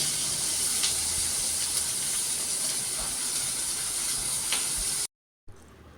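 Chopped bell pepper sautéing in a hot pan while fish keema balls are prepared, a steady loud sizzle and hiss running without pause for about five seconds before cutting off abruptly, then a faint quieter tail.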